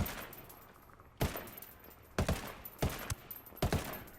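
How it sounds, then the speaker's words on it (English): Full-auto Mk 17 rifle fire in Ghost Recon Wildlands, heard as four loud, separate short bursts spaced about a second apart, with faint ambience between them and no speech. "We're going to go full auto on the Mark 17 because I know I can reel these guys from here."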